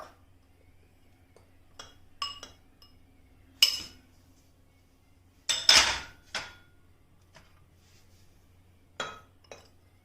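A spoon clinks against a mug while dry cake ingredients are mixed inside, giving scattered sharp ceramic taps and scrapes at irregular intervals, close and fairly clear over a quiet room hum.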